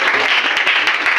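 A church congregation breaks into a brief, dense burst of clapping that holds at a steady level and fills the room.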